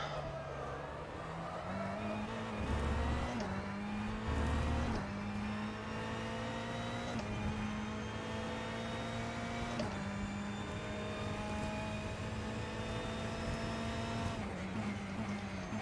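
A Ferrari 488 GTE racing car engine in the rFactor 2 video game drones continuously, its pitch climbing and dropping through repeated gear shifts, steady and loud throughout.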